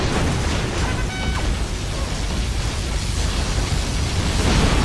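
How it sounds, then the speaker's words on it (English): A particle cannon explosion in Command & Conquer: Generals, a heavy rumbling blast rolling on continuously, dense and loud, with lingering roar and debris noise. "Warning, a particle cannon has been activated."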